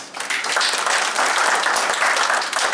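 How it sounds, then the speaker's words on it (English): An audience at a conference valedictory session breaks into continuous, fairly loud applause, many hands clapping densely and evenly for the full length, with no speech over it. "big round of applause, clap for all of us"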